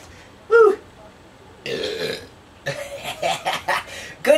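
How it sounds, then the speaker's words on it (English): A man lets out a loud, guttural burp close up while making bologna sandwiches after drinking beer, followed by short bursts of kitchen noise and more throaty sounds. "excuse my burp"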